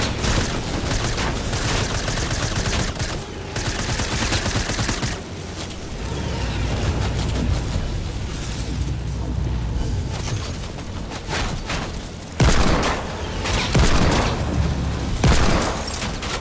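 Assault rifle gunfire rattles through a battle royale video game match, bursts of shots and heavy booms recurring across the whole stretch, loud and dense with a few sharper blasts near the end.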